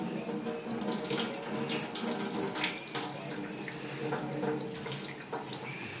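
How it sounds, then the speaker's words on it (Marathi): Wheat grains being washed under a running tap, with a steady close splash and gush of water into a vessel and faint stirring of the grains. "गहू स्वच्छ पाण्याने धुवून घेणार आहोत"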